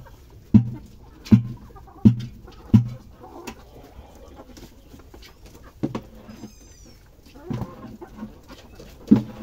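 Live farm chickens, fed on slow-cooked rice paddy, cluck and call in a series of short, sharp bursts, fairly close, with a brief high chirp midway and quiet gaps between calls; no talk.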